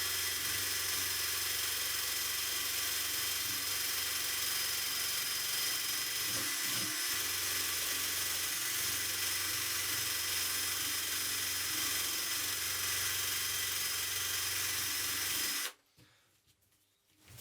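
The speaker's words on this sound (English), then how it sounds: "I'm actually holding the drill bit on there really gently" High, steady whine of a power drill with its bit pressed lightly against a BMW M50/M52 engine valve during a cylinder-head refresh, running continuously and fairly quietly before cutting off near the end.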